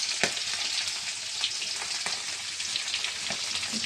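Hilsa fish cooks in a lot of oil, a dense, close, steady sizzle with popping crackles and a few soft spoon taps.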